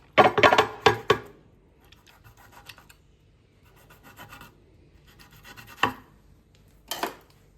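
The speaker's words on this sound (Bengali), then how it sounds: "তাই আমি এর গাগুলোকে একটু চিড়ে দেবো, যাতে এতে মশলাগুলো খুব ভালো করে" A knife scores the skin of a whole tilapia fish in short, scraping cuts, a quick cluster of sharp strokes at first, then softer rasping and two more distinct slashes, with no speech.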